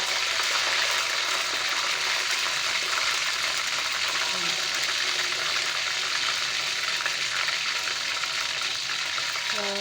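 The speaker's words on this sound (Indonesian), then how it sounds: "Ini goreng yang kedua, ini udah panas sekali, jadi itu cepat matang." Large fish pieces fry in very hot oil, giving a dense, steady sizzle and crackle that runs unbroken and fairly loud from start to finish.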